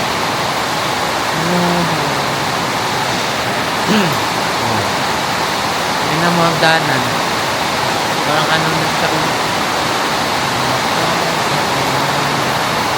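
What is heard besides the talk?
heavy rain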